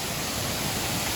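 Pullaveli waterfall roaring as water pours down, a steady, dense broadband rush heard from the top viewpoint, continuous and fairly loud with no other sounds.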